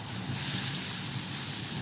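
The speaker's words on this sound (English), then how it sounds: "a lot of acid rain." Acid rain falls steadily in a video game, a dense, even hiss of rainfall with a wind-like rush, continuous and moderately loud throughout with no voices.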